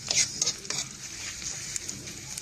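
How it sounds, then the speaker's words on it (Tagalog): Onion and garlic sautéing in a frying pan, a steady close sizzle broken by a few scraping stirs of a utensil, with no voices. "So ating sibuyas, bawang. So-brown muna natin po siya."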